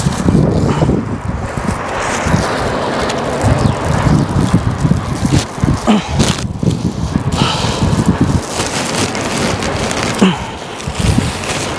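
Strong wind buffets a tower crane on a construction site in a continuous loud, gusty roar with rumbling microphone blasts throughout, and a voice speaks briefly beneath it.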